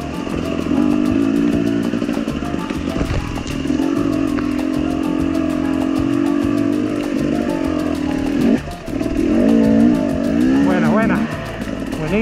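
Husqvarna TE250 enduro motorcycle engine revving and labouring on an off-road trail, loud and close throughout, with pitch rising and falling as the rider works the throttle; a voice talks over it.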